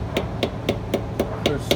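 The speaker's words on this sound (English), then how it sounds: "You want to hammer away at this" A hammer taps a pinion seal into a Ford 8.8 rear end, seven even, sharp metallic strikes at a steady rhythm, close up and alone.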